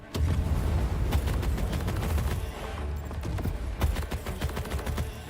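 Rapid gunfire and weapon recoil bursts in the game Oblivion Remastered, loud and dense throughout with sharp repeated shots over a low rumbling bed, no talking.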